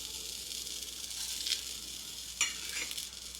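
Grated coconut and sesame seeds dry-roasting in a pan on a stove give a faint, steady sizzling hiss, with a couple of brief scraping stirs from a spoon partway through.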